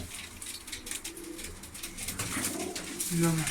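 Pigeons coo in low, soft bursts near the end, with wing flutters and faint chirps in a busy background at a pigeon fanciers' association in Ankara.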